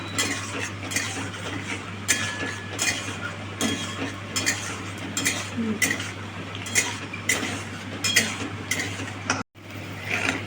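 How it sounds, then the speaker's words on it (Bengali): Peanuts fry in hot oil while a spoon stirs and scrapes the pan in irregular clinks, over a steady low hum, with a brief cut near the end. "আমি বাদামটাকে একটু ভেজে নেবো প্রথমেই বাদামটা লাল লাল করে আমি একটু ভেজে নেব"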